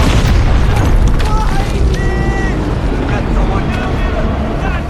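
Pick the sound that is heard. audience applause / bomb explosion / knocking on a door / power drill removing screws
bomb explosion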